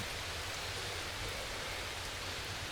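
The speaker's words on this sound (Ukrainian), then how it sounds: "Під дощем." Rain falls in Darkwood as a soft, continuous hiss of drops on surfaces, faint and even, with no talking over it.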